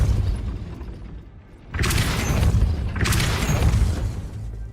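A heavy gate mechanism grinds into motion after a Depulso spell in Hogwarts Legacy, starting with a sudden loud burst and then rumbling on with a second surge, close and steady.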